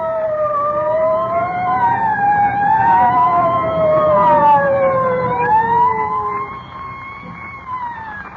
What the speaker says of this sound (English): I don't like the sound of them sirens.